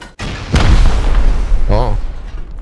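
In the game Rust, a rocket hits with a single loud, deep explosion that rumbles on for a moment, and a voice calls out briefly after the blast.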